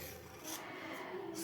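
A spoon stirs and scrapes through milk kozhukattai in a pan, giving a soft, close-up rubbing and rasping sound with a few faint swishes and no talk.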